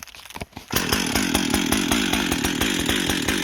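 A 60cc professional chainsaw, Husqvarna 562XP or Echo CS-620PW, running on a 40:1 fuel mix, fires up after a short quiet moment and settles into a loud, steady, rapid two-stroke idle, close and alone.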